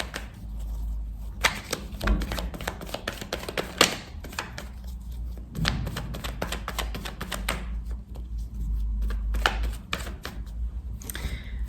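A deck of Béline cards is cut and handled by hand, giving soft, scattered clicks and slaps of card stock, sometimes in quick clusters, fairly close and quiet over low background hum.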